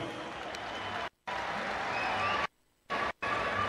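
A crowd applauds at a rally honouring the Russians in the Central African Republic, steady broadband clapping broken by a couple of abrupt silent gaps.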